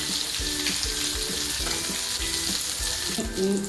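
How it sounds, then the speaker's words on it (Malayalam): Chicken shawai pieces frying in hot oil give a loud, continuous sizzle close by, with faint bubbling and light clinks now and then, and no talking. "നന്നായിട്ട് ഫ്രൈ ചെയ്തെടുക്കാം"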